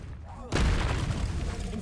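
A Confringo spell goes off in Hogwarts Legacy, a sudden booming blast that rolls into a rumbling, crackling tail after a short quiet lead-in, with a voice underneath.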